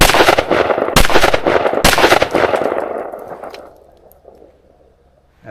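Two sharp, loud gunshots from a Springfield XDM pistol firing 10mm woods loads crack in quick succession about a second apart, each followed by a booming outdoor echo that fades to quiet.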